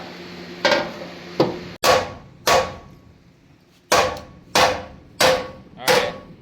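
A hammer slams the steel frame of a 1980 Buick LeSabre demolition derby car, dimpling it in seven loud, ringing metallic blows spaced unevenly about a second apart, with no talking.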